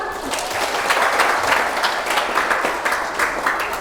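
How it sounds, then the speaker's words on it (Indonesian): A steady wash of audience applause fills a room at an Islamic Quran study program, many hands clapping together at a fairly even level for several seconds, with no voices over it. "tepuk tangan dong"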